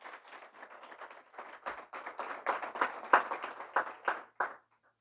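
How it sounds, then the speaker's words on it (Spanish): A church congregation claps together in a sustained round of applause that swells in the middle and stops sharply at the end, with no voices over it. "Si lo va a dar un aplauso,"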